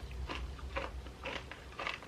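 Grape and strawberry Nerds candy crunched and chewed close up, with about four bursts of crisp, crackly bites spread evenly over a couple of seconds above a low background rumble.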